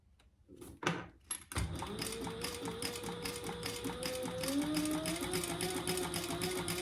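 A sewing machine top stitching a crossbody bag, starting after a few soft handling clicks and then running in a steady, fast, even rattle at close range, with no talking.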